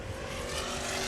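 An offshore racing powerboat, a 30-foot Levy Craft with a 650 horsepower engine, roars past during a world championship race at Key West, a steady loud engine drone throughout.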